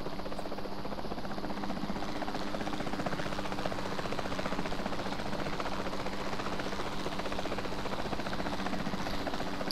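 A helicopter's rotor and engine drone steadily and loudly in Jurassic World Evolution 2, a dense continuous whir with rapid blade chop throughout and no talking.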